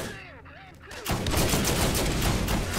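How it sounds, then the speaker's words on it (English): In the video game Borderlands, a voice speaks briefly, then dense rapid gunfire bursts in and keeps going as loud, sustained volleys. "Come on, let's shoot you in the leg."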